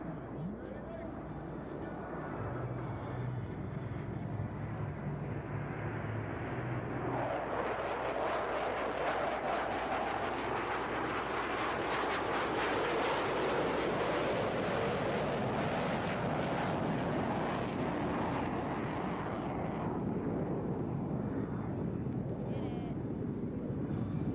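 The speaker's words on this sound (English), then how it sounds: "As each aircraft accelerates to 500 miles per hour, they will perform a half Cuban 8 reversal turn" Blue Angels jets accelerate to about 500 mph through a half Cuban 8 reversal at the 2025 NAS Oceana Air Show, a loud swelling roar building to a sustained peak and fading, while an announcer talks over it.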